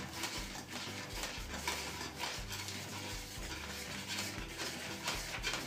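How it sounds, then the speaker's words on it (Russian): A spoon stirring cake batter for a Day and Night cake, with baking soda slaked in vinegar just mixed in; soft repeated scraping and sloshing strokes in a steady rhythm, close and quiet, with no talking. "Тоже перемешиваем."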